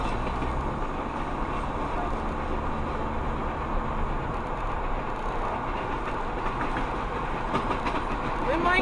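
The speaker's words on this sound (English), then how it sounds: "We might catch up to the locomotives, guys. They're not that far ahead." Train pulled by steam locomotive 2102 running on rails through Nesquehoning, Pennsylvania, a steady loud rumble with rhythmic clickety-clack of wheels, heard continuously from nearby while pacing alongside.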